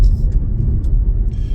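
A Triumph Stag being driven, heard from inside the cabin as a loud, steady low engine and road rumble with brief higher hiss bursts.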